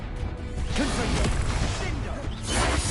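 A Confringo spell cast in Hogwarts Legacy hits with a crashing whoosh and thwack amid combat noise, fairly loud and busy, with a voice speaking partway through.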